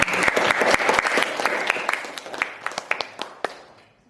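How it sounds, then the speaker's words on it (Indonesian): A class of pupils claps together at the end of a school lesson in Indonesia, a dense burst of applause that thins into scattered individual claps and fades near the close, with no one speaking over it. "Tepuk tangan sekali lagi untuk kita semua."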